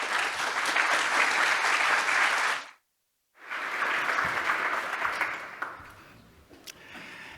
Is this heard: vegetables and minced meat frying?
no